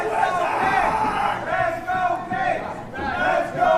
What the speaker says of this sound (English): Now the fans getting behind Sebastian Cage, it sounds like.